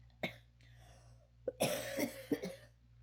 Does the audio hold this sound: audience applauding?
no